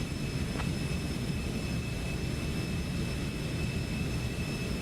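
Cessna Citation C750 business jet in X-Plane 12 performing a go-around, a steady broadband engine roar with high tonal whine lines, continuous and loud with no voices.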